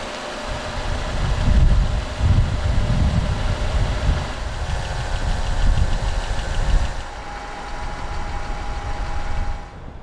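A 2015 Vauxhall Corsa 1.4i 16v VVT turbo petrol ecoFLEX hatchback engine runs at idle, a steady close mechanical hum and fan whir with slight revving swells, then the level settles lower.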